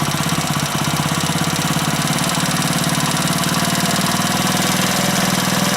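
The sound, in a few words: Honda Splendor motorcycle engine revving, RPM rising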